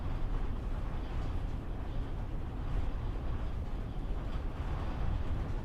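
A train in a simulator game cruising at a steady 79 mph, giving a continuous low rumble and rolling drone that holds even and unbroken throughout, with no talking over it.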